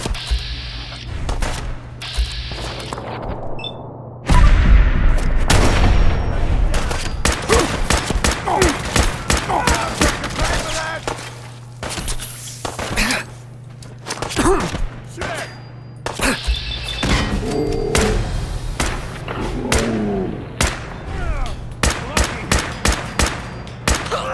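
Rapid bursts of automatic gunfire and single shots from the Fallout 4 video game crack loudly through a dense, continuous firefight, with thuds and mechanical clatter between volleys and occasional voices underneath.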